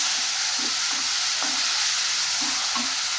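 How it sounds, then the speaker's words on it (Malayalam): Soya chunks sizzle in a frying pan for a curry, a steady hissing fry broken by several soft scraping stirs of a spoon against the pan, close and moderately loud. "അത് നല്ലപോലെ ഫ്രൈ ആക്കണം."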